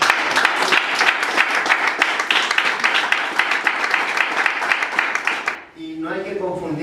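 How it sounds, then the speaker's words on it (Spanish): A church congregation claps together during a Spanish-language worship service, loud and rhythmic for over five seconds before cutting off as a voice begins speaking. "Un aplauso al Señor."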